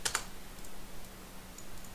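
Quick burst of typing on a computer keyboard, a few crisp close key clicks at the start fading into quiet room hiss, with no voice.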